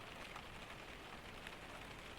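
Rain patters on the roof of a forest cabin during a Scandinavian storm, a continuous, uniform wash of drops, close and steady from start to finish, with nothing else standing out.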